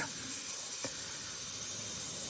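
An airbrush with a 0.23 nozzle spraying Caribe Blue candy paint onto a small hood gives a steady, even hiss that runs unbroken from start to finish, close and alone.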